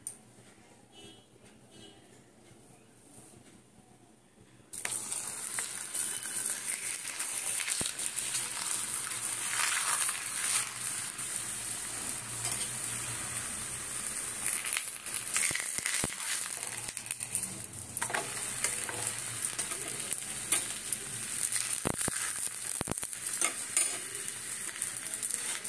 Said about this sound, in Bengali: প্যানের মধ্যে তেল দিয়েছি আমি, আর এখানে ডিমগুলোকে ফাটিয়ে